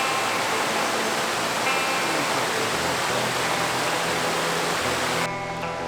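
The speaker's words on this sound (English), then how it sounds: "we are checking out the waterfalls. This is our first waterfall on our first hike." A waterfall near Custer, South Dakota, reached on a hiking trail, pours in a steady, dense roar of rushing water, heard close and unbroken throughout.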